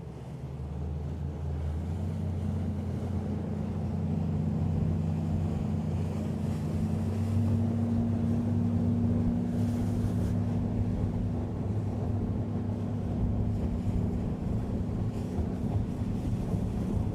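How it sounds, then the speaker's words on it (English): Steady, loud wind rushes across the microphone while a boat motors on Lake Guntersville on a cold November morning, with a low, continuous engine drone underneath and no talking. "That is some cold wind."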